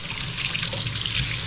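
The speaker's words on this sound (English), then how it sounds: "That is warm water." Warm water runs steadily from a tap in a house just fitted with a newly working boiler, a continuous close hiss and splash into a sink with no pauses.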